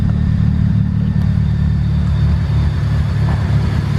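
A single-cam turbo Honda Civic EG hatchback engine idles just after starting, a steady, loud, close rumble with a slightly uneven, spitty pulse and no voices.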